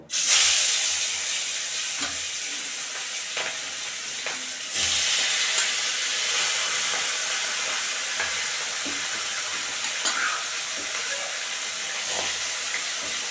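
Four pieces of fish fry in hot mustard oil in a kadai with a loud, continuous sizzle and hiss, broken by a few sharp spatters and pops.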